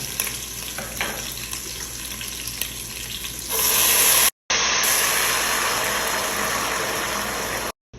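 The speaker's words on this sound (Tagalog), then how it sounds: "At ngayon i-add ko na yung water." Water goes into a sautéed mixture in a hot pan. A quieter stir-fry sizzle bursts partway through into a loud, steady hiss and bubbling roar that keeps going to the end, broken only by brief cuts.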